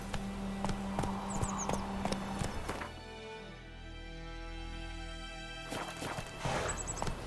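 Galloping horse in The Witcher 3 video game, its hooves drumming in a steady rapid clip-clop that fades for a few seconds in the middle before picking up again, with soft game ambience underneath.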